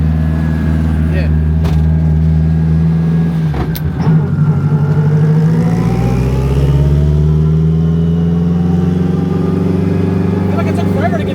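A 1000 HP all-wheel-drive Honda Civic pulls hard on a street, its loud engine note rising and falling through the gears with a steady in-car roar, close and sustained throughout.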